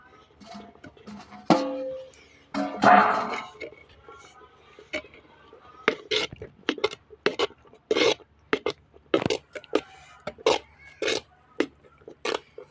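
Thick pearl millet (kambu) porridge stirred in a pot, giving a run of short scraping, rubbing strokes in a fairly steady rhythm, close and clear, with a few louder thuds near the start.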